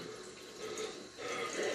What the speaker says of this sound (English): I'm going to be rinsing my razor and stuff like that